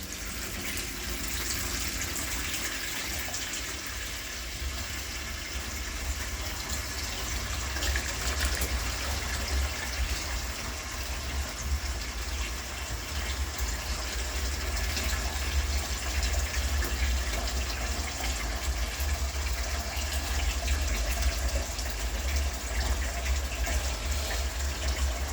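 Water gushes steadily into a sink for rinsing dyed yarn, a continuous loud rushing fill that runs unbroken for the whole stretch with no voices.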